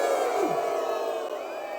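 Protesting workers, gathered over benzene exposure at a company, boo their management: a dense, sustained crowd roar of jeers and shouts, loud and steady throughout, with no single voice standing out.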